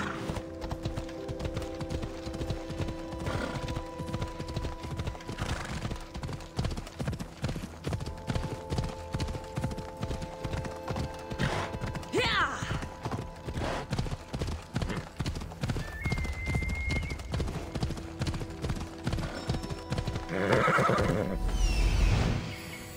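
Horse hooves clip-clop in a steady galloping rhythm in Assassin's Creed Odyssey, with a whinny and neigh breaking through, game music and ambient tones underneath, and a brief shout near the start.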